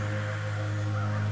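Crows cawing at Grey Mountain in the adventure game Night of the Rabbit, heard as a clear, close caw over a steady droning background of game music.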